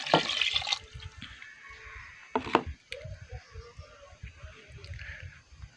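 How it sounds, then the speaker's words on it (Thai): Thick first-press coconut cream pours into a cooking pot for a frog curry, making a near, splashy liquid gush that comes in two short bursts with quieter trickling and low murmurs between. "ใส่น้ำกะทิ หัวกะทินะครับเป็นหัวกะทิลงไปเลย"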